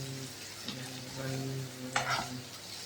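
Taro paste (kochu bata) fries in oil in a pan while being stirred, with a steady close sizzle and a couple of scraping stirs, no talking.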